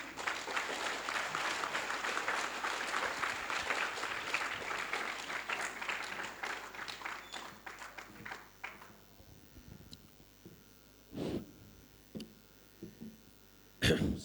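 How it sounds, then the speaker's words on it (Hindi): Loud applause from an audience at a farmers' organisation gathering greets the next speaker, dense clapping that thins out and fades, leaving scattered claps and a few isolated noises near the end. "तो एक बार जोरदार तालियां।"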